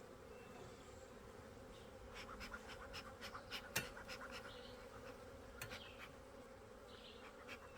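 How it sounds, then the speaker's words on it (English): A festooning honey bee swarm building fresh white comb in a Layens insulated horizontal hive hums with a steady, faint, continuous buzz, and individual bees flick past close by now and then. "These bees were still festooning, holding on to each other, and they're building down."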